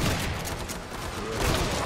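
Rapid gunfire rattles in the Killing Floor 2 video game, a short, steady burst of dense shooting with no talk.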